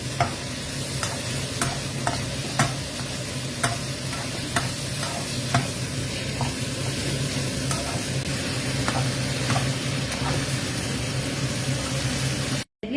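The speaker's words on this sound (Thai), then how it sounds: "ผัดค่ะ ใช้ไฟแรงๆ" Stir-frying over high heat with garlic, spring onion and sauce in the pan, a steady loud sizzle broken by regular scrapes and clacks of a spatula for about twelve seconds before cutting off abruptly.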